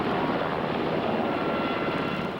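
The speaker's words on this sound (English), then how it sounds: "rescuers hoisted each boater up into the chopper." A Coast Guard rescue helicopter hovers during a hoist of boaters from the water, its engine and rotor wash making a steady, loud, broadband roar that holds unbroken throughout with no voices.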